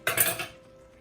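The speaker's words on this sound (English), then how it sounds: "Give it a stir." A utensil knocks against a cooking pot while food with spinach and liquid is stirred, giving a single bright metallic clink and scrape that quickly rings out into quiet.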